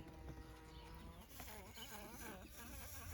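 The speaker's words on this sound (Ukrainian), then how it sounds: "ви не повірите, тут заселилися джмелі" Bumblebees buzz softly and continuously inside a tomato greenhouse, their wavering drone rising and falling as they fly close by.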